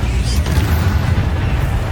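In Hogwarts Legacy, a Confringo blasting spell goes off in a heavy, booming explosion that rumbles low and loud throughout, with dense noise layered on top and no clear gaps.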